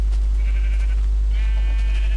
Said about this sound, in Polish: O, krowa się pali.